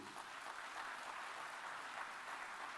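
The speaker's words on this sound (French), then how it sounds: "que je vous demande d'applaudir" Applause from the audience at the official opening of the Dakar 2 Feed Africa summit, greeting Irish President Michael Higgins. Dense, steady clapping from a large crowd fills the whole stretch with no voices.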